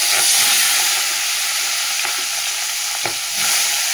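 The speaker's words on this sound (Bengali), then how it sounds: "এখানে তেলও গরম হয়ে গেছে, মাথাটা ভেজে নেবে।" A fish head, rubbed with salt and turmeric, fries in hot oil, giving a loud, dense, continuous sizzle and hiss with a few faint clicks, heard alone at close range.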